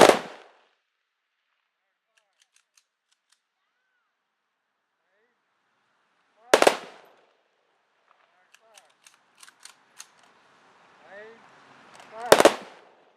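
Rifle volleys fired by an honor guard at an outdoor Memorial Day service, three sharp loud cracks spaced several seconds apart, with faint rifle-action clicks and shuffling between shots.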